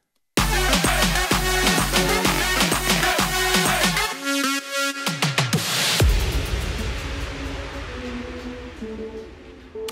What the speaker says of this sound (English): I went into the drop, and then on the second time around, I did a dropout